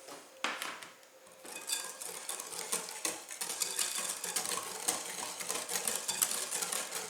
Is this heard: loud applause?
no